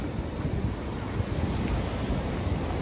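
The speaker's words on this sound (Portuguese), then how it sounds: "água tá batendo aqui na pedra aqui" Sea waves break against rocks on a windy shore, a dense, steady roar of surf mixed with wind buffeting the microphone, loud and continuous with no voices.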